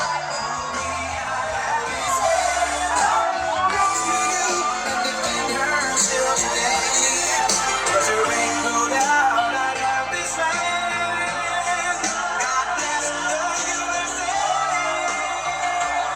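A crowd at a Trump rally plays back from a recording, a continuous wash of shouting, whooping and chanting voices blended with loud music, steady and dense throughout.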